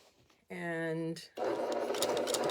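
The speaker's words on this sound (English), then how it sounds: "So we're just going to start sewing." A sewing machine runs a long seam on oversized pants, a steady close whirring drone that starts after a brief spoken remark.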